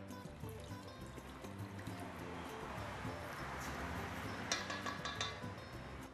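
Water is poured into a pot of rice cooking in tucupi, a steady splashing trickle that runs continuously under a busy background of voices and kitchen noise.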